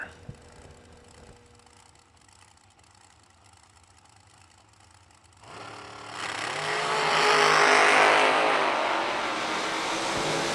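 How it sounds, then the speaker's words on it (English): Dragsters launch down a drag strip, the engine roar rising from a quiet, distant background into a loud, sustained howl that swells and then holds as the cars race away. "Good drag race."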